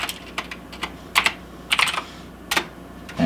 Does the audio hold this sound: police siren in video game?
no